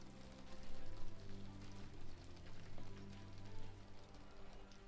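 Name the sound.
rain in the video game Sherlock Holmes The Awakened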